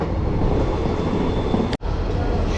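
A train at Sevoke station on the Siliguri–Haldibari line gives off a steady, close rumbling roar that cuts out for a brief instant near the end.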